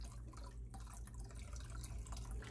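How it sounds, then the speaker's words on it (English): Beef broth is poured into a meat marinade in a kitchen, giving a soft, steady liquid splashing and gurgling that is fairly quiet and close, with no voices. "we're going to pour 2 cups of beef broth in there"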